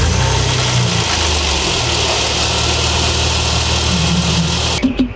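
An old BMW's engine idles steadily up close with a constant low rumble and vibration, holding almost unchanged until it cuts off abruptly near the end, followed by a brief rustle.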